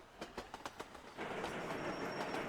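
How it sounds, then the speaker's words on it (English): Trains run back and forth along a long rail line in a video game, giving several quick clacking wheel beats followed by a steady, rushing rail rumble. The sound stands alone with no talk. "These trains are running back and forth."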